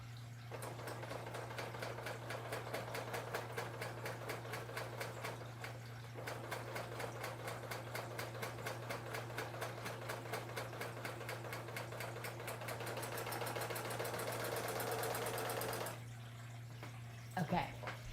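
An August serger trims and stitches a raw fabric edge in a long run of fast, even mechanical chatter over a steady hum, close by, before it stops near the end.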